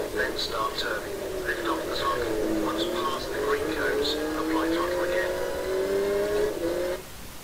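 Rally car engine in Richard Burns Rally on PC, a steady droning whine that rises and dips with the throttle and drops away at the end, with speech over it.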